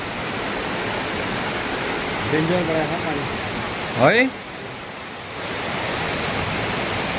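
Heavy rain falls in Pokhara, a steady loud hiss that continues throughout, with brief voices and a short exclamation partway through.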